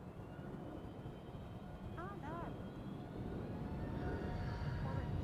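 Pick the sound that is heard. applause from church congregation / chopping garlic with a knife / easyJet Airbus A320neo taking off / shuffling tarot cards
easyJet Airbus A320neo taking off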